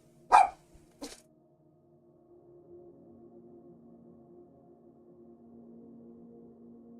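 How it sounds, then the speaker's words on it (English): A dog barks twice in quick succession indoors, sharp and fairly close, followed by a quiet low hum with no further barking. "My dog doesn't like guests."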